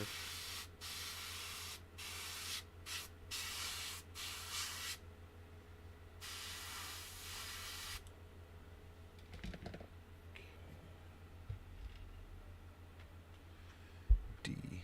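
An airbrush is sprayed in short bursts of hissing air while being cleaned between paint colors on a Hasegawa Hitachi wheel loader model kit, several quick puffs followed by a longer blast, then quiet handling clicks and taps.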